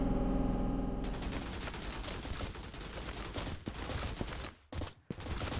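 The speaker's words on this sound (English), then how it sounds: "the silent SMG is much louder than the unsilenced rifle" Rapid, continuous suppressed SMG fire in a military shooter game runs loud and dense from the first second, with brief gaps near the end.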